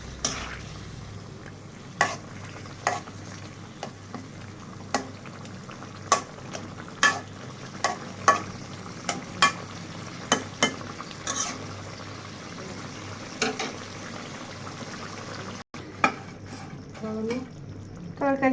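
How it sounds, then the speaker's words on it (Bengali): Taki fish sautéing in a pan with turmeric, coriander powder, cumin paste, onion paste and salt, a steady close sizzle broken by repeated sharp scrapes and clinks of a stirring spoon. "এখানে মাছ দিয়ে দিলাম। মাছ একটু কষিয়ে নেব।"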